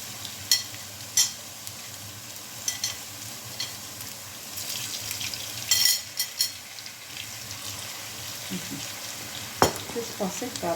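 Sliced potatoes fry in a pan of hot oil with a steady sizzle and occasional pops, while a few louder clinks and scrapes come from handling nearby.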